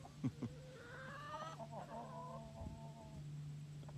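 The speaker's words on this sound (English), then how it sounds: "we opened the door for the roosters to start meeting the chickens" Chickens cluck and roosters call in a quiet barnyard as roosters meet the hens, with scattered soft clucks and a sustained low hum in the background.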